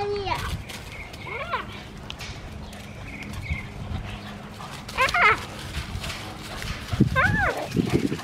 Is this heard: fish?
no